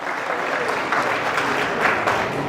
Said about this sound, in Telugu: ఒకసారి గట్టిగా చప్పట్లు కొట్టి జయజయలు పలకాన్ని కోరుతున్నా